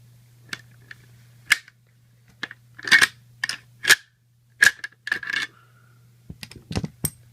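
Metal clicks, scrapes and sharp clinks as the bolt is slid out of a Zastava M92 PAP AK-pattern pistol, a string of close, irregular bursts with brief pauses and a low steady hum underneath.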